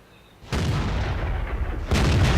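Two heavy tank cannon blasts from an AMX tank in World of Tanks, about a second and a half apart, each a loud booming burst with rumbling tail.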